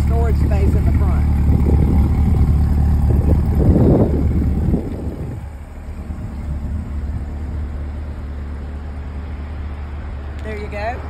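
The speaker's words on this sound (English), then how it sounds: "Let's check out that performance exhaust that I mentioned." A 2023 Chevrolet Corvette Stingray with a performance exhaust rumbles loudly with a deep engine note that swells in a rev near the middle, then settles into a quieter idle, with wind noise and a voice talking over it.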